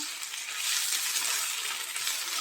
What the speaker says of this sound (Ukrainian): Зараз додаю часничок. Все ретельно перемішаємо.